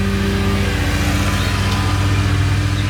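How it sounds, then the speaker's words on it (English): A neighbor's lawn mower runs steadily and loudly nearby, its engine droning with a constant low rumble and a slight shift in pitch partway through, with no talking. "I'm gonna just try to record this while the neighbor mows his lawn."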